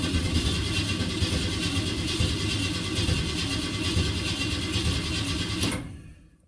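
A 1967 Ford engine cranks over dry with no fuel in the carburetor, a loud continuous mechanical churning close by that cuts off abruptly near the end.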